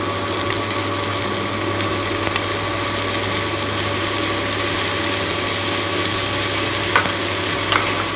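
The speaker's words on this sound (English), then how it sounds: "So now add the rajma. You can actually take plain boiled rajma and just add to it." Boiled rajma with chilies frying in a pan and being stirred, a steady dense sizzle throughout with faint scraping of the spoon, no talk.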